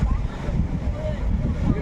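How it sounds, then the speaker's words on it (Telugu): Sea waves surge and wash on the beach at Kanyakumari in a low, continuous rumble, mixed with wind buffeting the microphone. "చూడండి అలలు ఎంత బాగా కొడుతున్నాయో"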